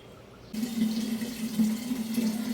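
A tap starts running after a brief pause, water streaming steadily as mangoes are washed under it, a soft continuous splash close by with no talking.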